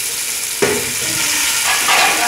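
Meat dropped into a hot pot already frying two garlic cloves for a simple cassava broth: a loud, steady sizzle jumps with a sharp crackle as the meat lands, then continues as a dense hiss with slight stirring changes, close up, no voice.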